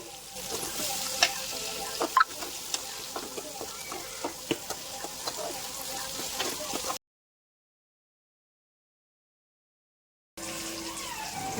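Potato and brinjal pieces fried and stirred in a pan, with a steady sizzle broken by frequent clinks and scrapes of the spoon, then a gap of silence before the sizzling resumes.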